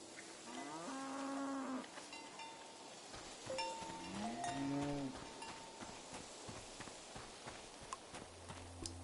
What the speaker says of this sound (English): You are a cow and you are named Krasnahorkai.